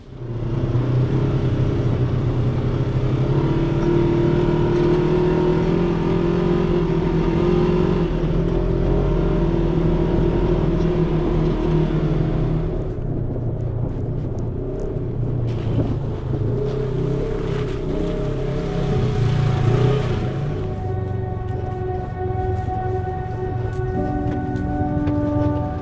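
An ATV drives fast over a bumpy autumn trail in New Hampshire's White Mountains, its engine drone steady and loud under heavy wind buffeting, with the pitch shifting as it travels.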